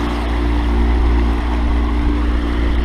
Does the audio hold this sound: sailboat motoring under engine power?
yes